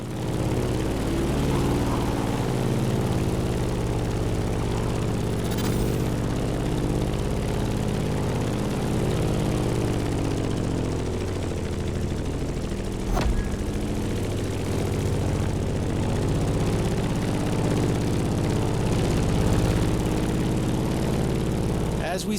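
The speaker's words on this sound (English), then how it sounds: "In the cockpit of a stunning Grumman F-8F Bearcat, or simply the Bear." A Grumman F8F Bearcat propeller fighter flies in a racing video game, its piston engine giving a steady, loud droning hum with a faint short whoosh partway through.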